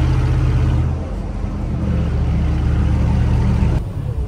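A G-class 6x6 off-road vehicle drives past with a loud, steady engine rumble and whir up close, swelling briefly before easing off.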